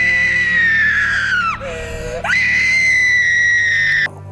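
A girl screams very loudly in a scene from the 2014 film Apocalyptic, one long piercing cry of about four seconds that dips lower in pitch midway before rising again.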